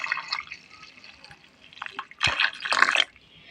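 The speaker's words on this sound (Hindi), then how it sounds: "तो ठंडा पानी मैं इसमें दे दूंगी और इसको धोते हुए छान लूँगी मैं।" Old ghee being washed with chilled water and strained, giving wet drips and splashes that swell into a louder, busier burst of pouring and sloshing near the end, with no talking.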